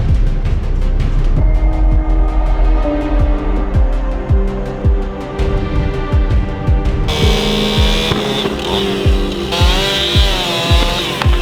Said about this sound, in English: Pulled out the saws, chopped through,